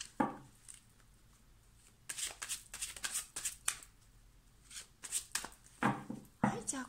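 Cards are shuffled in several quick riffling bursts, near and crisp, with a Japanese-speaking voice heard between them.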